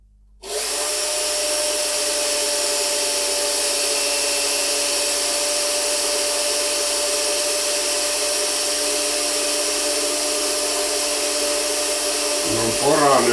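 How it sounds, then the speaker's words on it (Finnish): A power drill bores into aluminium while building a control box for a rotating welding positioner, a loud, steady whine with a constant tone that runs for about twelve seconds before winding down. "No poraan nyt siihen alumiiniin sieltä."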